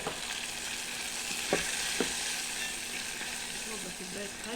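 Garlic frying in a pan for a cow trotters dish, a steady soft sizzle with a couple of faint clinks of a utensil, no talk over it.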